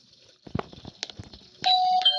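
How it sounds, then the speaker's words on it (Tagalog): A few soft knocks or taps, then an electronic doorbell chime rings out clearly with sustained tones, close and fairly loud. "Ay, may nagdo-doorbell pala."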